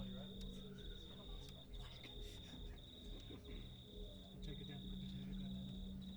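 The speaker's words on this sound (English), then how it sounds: "Cricket's driving me crazy, I'll tell you what. It's just like yelling at me." Crickets chirp in a steady, faint pulsing trill during a live outdoor set at Cobargo Festival in 2023, continuing under scattered talk and stage noise.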